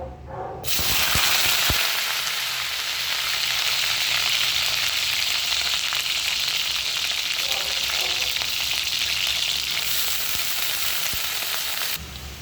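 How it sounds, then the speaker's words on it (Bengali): Cauliflower florets hit hot oil in a wok and fry with a loud, dense, continuous sizzle that starts abruptly and holds steady for several seconds, close up, with faint stirring and no voices. "আগে একটু ফুলকপিগুলো আগে দেবো, একটু ভাজা হলে আলুগুলো দেবো।"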